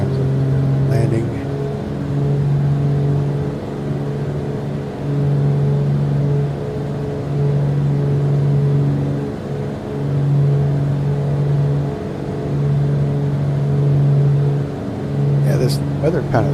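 The twin piston engines of a Beech B60 Duke in Microsoft Flight Simulator 2020 drone loudly and steadily with a pulsing, wavering hum while power is brought back for landing, and a voice talks over part of it.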